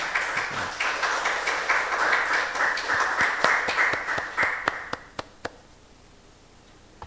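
A church congregation claps during a Sunday worship service, a dense burst of applause that thins into a few scattered, separate claps before stopping, leaving near silence.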